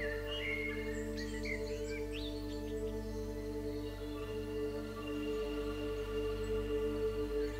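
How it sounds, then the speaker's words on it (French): Birdsong in a natural outdoor setting, several chirping calls and short warbles rising over a steady hum of insects or crickets, moderately distant with no voices. "Les arbres chuchotent, les oiseaux chantent en secret."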